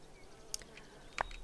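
Bees at a beehive in the Wylde Flowers video game give brief faint buzzing bursts, two short sharp pulses over a quiet background.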